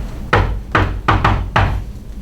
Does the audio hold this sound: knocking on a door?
yes